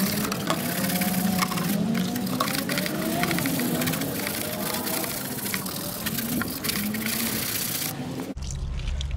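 Brush scrubbing inside a car radiator coolant reservoir with soapy water from a bucket, a steady, loud wet scraping and swishing that runs continuously for about eight seconds before cutting off abruptly.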